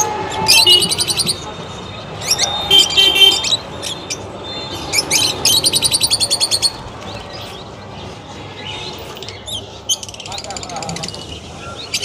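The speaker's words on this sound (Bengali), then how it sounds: "এখানে অ্যালবিনো লাভবার্ড রেড আইয়ের মধ্যে আছে।" Albino red-eye lovebirds chirp in quick bright bursts at a local bird market in Chandannagar, the calls clustering in short flurries over a steady murmur of background voices and market noise.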